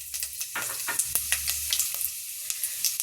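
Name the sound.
urad dal frying in oil while stirred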